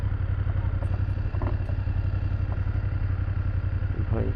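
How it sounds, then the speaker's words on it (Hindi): A broken-down BMW F850 GS motorcycle runs with a rough, steady low rumble and loose mechanical clatter, a continuous rattling drone heard up close with no pauses. "खड़खड़ाता हुआ बाइक को लेकर मैं पहुँच गया यहाँ पे।"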